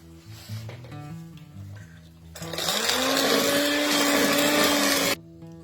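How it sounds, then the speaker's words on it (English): An electric hand mixer beats egg yolk and sugar for a South African milk tart, starting with a faint low hum and then whirring loud and steady for about three seconds before cutting off abruptly. "And I'm going to now mix the sugar and the egg together."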